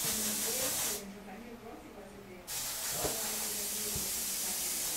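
A spray can hisses loudly in a steady burst over a stencil, pauses briefly, then hisses again for a longer stretch.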